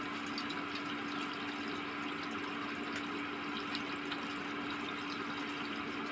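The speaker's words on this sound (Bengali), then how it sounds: "প্রথমে 1 কাঁসি দুধ ঢেলে দিচ্ছি" Milk poured into a pot, a steady continuous liquid rush and splash with a constant hum in the background, held at an even level throughout without pause.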